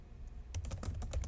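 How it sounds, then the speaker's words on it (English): Typing on a computer keyboard at a reception counter, a quick burst of close, crisp key clicks starting after a brief quiet moment, with a low hum underneath. "She began typing something into her keyboard"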